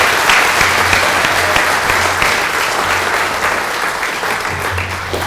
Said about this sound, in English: So again, everyone, one more round of applause for Mr. McAdam.